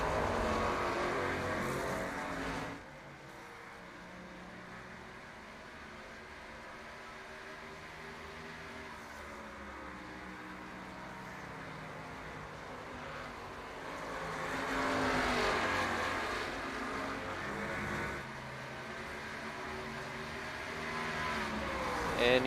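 Race cars in the iRacing video game, Grand National Series at Iowa, with engines droning steadily and rising and falling in pitch as cars pass, heard faintly and continuously.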